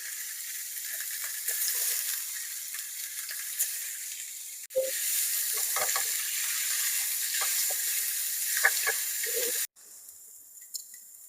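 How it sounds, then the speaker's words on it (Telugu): Cut chicken pieces fry in hot oil in a pan, giving a steady close sizzle and hiss with a few soft stirring clicks and one brief break in the middle. "ముందుగా కట్ చేసి పెట్టుకున్న చికెన్ పీసెస్ని కూడా వేసి ఫ్రై చేయాలి"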